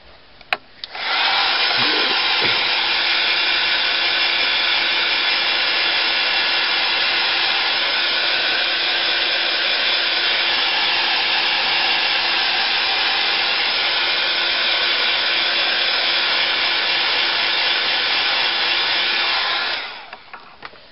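A hair dryer drying paint for a resist technique switches on after a brief click and runs with a loud, steady blowing whir for about twenty seconds before shutting off.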